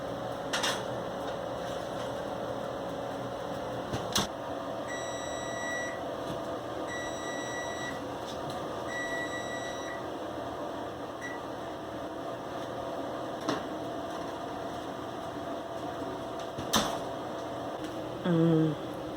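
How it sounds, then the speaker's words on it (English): A kitchen timer set while orange brownies bake beeps in three short, faint groups over a steady appliance hum. "don't forget to set the timer"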